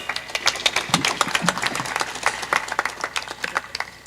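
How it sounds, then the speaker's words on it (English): Audience at a CUEA university graduation ceremony in Kenya claps steadily, a dense patter of many hands close by with scattered louder claps throughout. "Let's give Dr. Okech a better clap."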